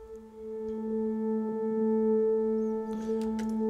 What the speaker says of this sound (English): Yeah, so this pad originally sounds like this.